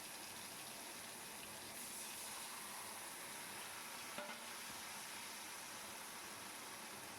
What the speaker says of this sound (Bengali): পেঁয়াজ রসুনটা দিয়ে দিলাম তেলের মধ্যে